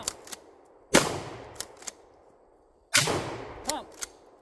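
Two shotgun blasts fired from the hip at a shooting class, each a loud sharp crack with a ringing decay, followed by quick metallic clicks of the pump action being worked.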